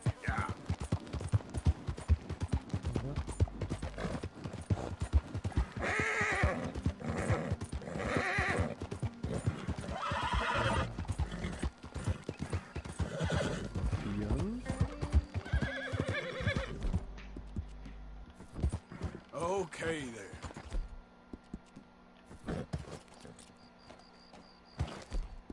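Horse hooves clip-clop in Red Dead Redemption 2 with repeated neighs and whinnies, loud and continuous over a long stretch, later thinning out, with occasional game noise and some talk.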